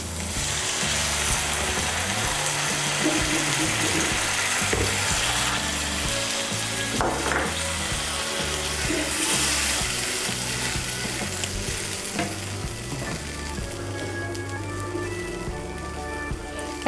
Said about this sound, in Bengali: আমি এর মধ্যে মশলার বাটিগুলো ধুয়ে 1 কাপ গরম জল দিচ্ছি।